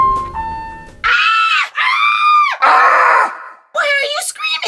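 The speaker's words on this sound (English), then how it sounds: "Why are you screaming?" A person screams in long, loud, high bursts broken by short pauses, ending in a shakier cry.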